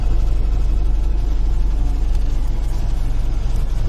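A GAZ 21 car engine runs steadily up close, a loud, continuous low rumble with a dense, even mechanical drone and no break throughout.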